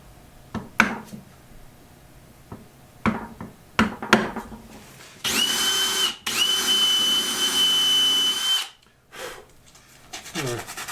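A power drill bores dowel holes into wood, with two close, loud whirring runs in the middle, preceded by tapping and setup clatter and followed by quieter handling.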